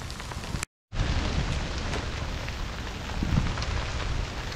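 Steady rain falls on a cold, wet golf course, a dense even hiss close by that drops out for a fraction of a second near the start and then carries on unbroken.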